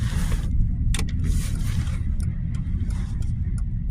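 Car driving slowly on a snowy road with tires that lack traction, the steady low engine and tire rumble continuing alone with a few brief clicks and rattles on top.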